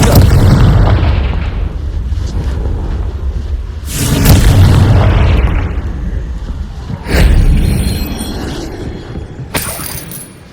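Confringo blasting spells from Hogwarts Legacy go off in a string of heavy, booming explosions, roughly four loud bursts a few seconds apart, each rumbling and crackling before it fades into the next.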